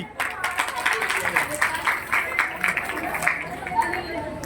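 An audience at a farewell ceremony for a Gayatri Mahayagya, where rangoli prizes are awarded, claps in a sustained round of applause with a murmur of voices underneath.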